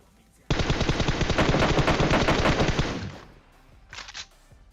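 Automatic gunfire in the video game PUBG Mobile comes as a loud, rapid burst of shots lasting about two and a half seconds, then fades, with a short second burst soon after.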